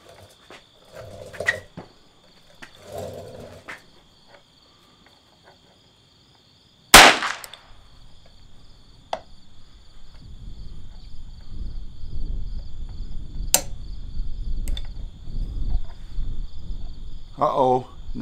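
A Smith & Wesson Victory .22 pistol with a Volquartsen barrel, clamped in a Ransom Rest at a 50-yard range, fires a single sharp, loud shot and then a second crack near the end, with quieter mechanical handling noises between them.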